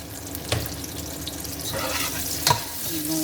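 Onions sautéing in a pan with a pinch of salt, a steady close sizzle with a couple of brief stirring scrapes and clinks.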